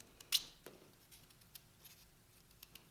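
A single crisp snip of a cutter through a delphinium stem, trimmed for a tall compote centerpiece flower arrangement, heard close and brief in an otherwise quiet room with a few faint small handling clicks.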